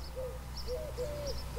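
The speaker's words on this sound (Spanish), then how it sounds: "el sonido, el canto de la tórtola" A European turtle dove coos in a family vegetable garden in Arjona, giving low, repeated purring notes over a steady low hum, with faint higher chirps from other birds.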